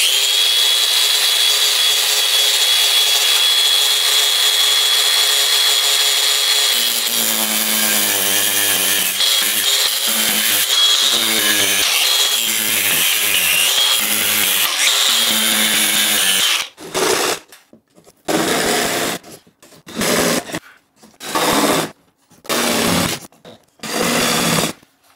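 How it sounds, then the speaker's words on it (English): A cutoff wheel cuts a hole through a van's metal roof with a loud continuous high whine that shifts pitch as it bites, then breaks into a series of short on-off bursts. "we're gonna just use this cutoff wheel to cut it out"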